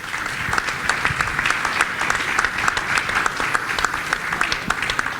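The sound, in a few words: audience applause for central bank president and finance minister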